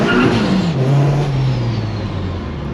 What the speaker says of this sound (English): Let's test out second gear. Let's see if it spins.